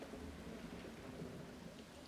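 Heavy rain and rolling thunder in the theme-park game Planet Coaster 2, a dense, even downpour roar with a low rumble underneath, steady and unbroken for about two seconds with no speech.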